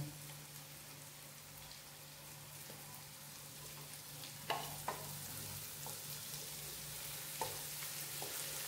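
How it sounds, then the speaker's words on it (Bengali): Chopped green chillies and garlic fry gently in butter over low heat, giving a faint, steady sizzle broken by a few sharp spatter pops and stirring taps. "এবার এর মধ্যে কাঁচা লঙ্কা কুচি, এটা আমি 2টো কাঁচা লঙ্কা দিয়েছি"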